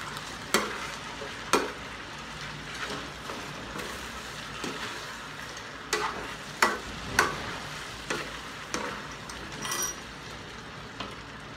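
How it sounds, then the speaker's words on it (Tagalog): Chicken curry being stirred in a pan, with a spoon scraping and clinking against the metal in scattered strokes over a steady sizzle of frying, close up and with no talking. "Ayan, haluin na natin to."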